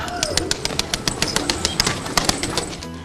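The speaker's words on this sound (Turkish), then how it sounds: "damında yetiştirdiği kuşları uçurarak stres atan Yalçın, kuşların uçmasından zevk aldığını" Wings clap in a rapid, regular burst as domestic pigeons take off close by from a rooftop loft, with a soft low cooing underneath.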